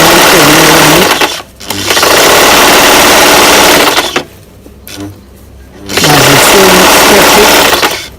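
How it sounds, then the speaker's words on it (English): A sewing machine stitches a T-shirt dress in loud, fast mechanical runs, stopping briefly twice between bursts of stitching. "We're sewing right away around it."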